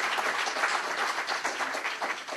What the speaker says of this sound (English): Indeed, round of applause.